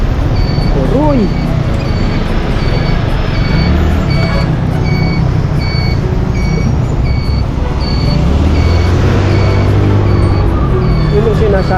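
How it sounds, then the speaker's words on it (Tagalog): Trucks and other vehicles on a congested expressway rumble loudly and continuously, with a reversing alarm beeping at a steady repeating rhythm and occasional deeper engine swells in the mix. "Sobra traffic, expressway."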